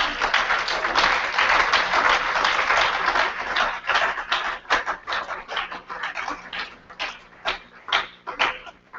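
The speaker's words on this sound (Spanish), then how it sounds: "Demos un aplauso de acción de gracia" A church congregation gives a round of thanksgiving applause during a service, loud dense clapping that thins out into scattered, uneven individual claps before fading near the end.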